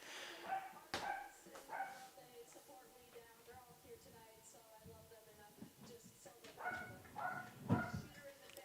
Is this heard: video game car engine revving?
no